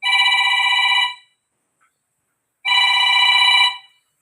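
An incoming call makes a phone ring in two loud electronic bursts of about a second each, separated by a clear silent pause, with no one talking.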